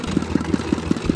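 Dongfeng diesel engine pumping water from a borewell to irrigate a field for sesame planting, chugging in a steady, regular low thump about five beats per second, close and continuous.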